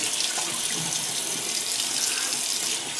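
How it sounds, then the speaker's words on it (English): Cold tap water pouring steadily into a bathroom sink during a face rinse after shaving, a continuous close hissing splash with no talk. "Let me rinse the face. Get a cold rinse on here."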